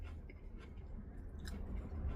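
Crunchy food with cheese being chewed up close, a steady run of soft crunching and squishy bites over about two seconds with no talking.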